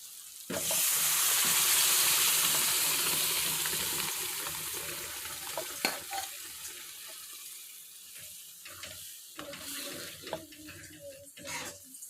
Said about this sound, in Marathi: मसाल्याला आपण छान तेल सुटलेलं आहे आता आपण शिजवून घेतलेला अख्खा मसूर टाकून घेऊ